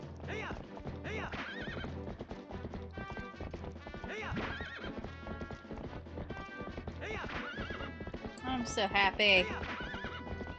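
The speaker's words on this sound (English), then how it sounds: "We need our horse!" A horse in Twilight Princess trots with rhythmic clip-clop hooves under game music, then neighs loudly near the end, while a voice speaks briefly.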